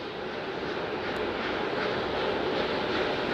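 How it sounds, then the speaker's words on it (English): Four RS-25 core stage engines on the SLS Artemis 1 rocket roar at launch, a dense, steady broadband rumble that stays loud and unbroken throughout. "The 4 core stage RS-25 engines gimbaling around, testing the ability to steer the rocket into space."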